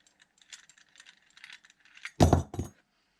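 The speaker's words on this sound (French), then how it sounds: "Maintenant, je débloque et j'ai plus qu'à desserrer." A knob on a homemade video lamp mount is unlocked and loosened, giving a series of small clicking, ratcheting mechanical taps followed by a louder, close rattling clunk near the end.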